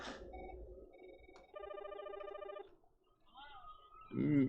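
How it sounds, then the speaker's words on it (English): A house phone rings with an electronic trill, faint and somewhat distant, followed by brief tones, while a voice talks around it. "Yeah, house phone is ringing."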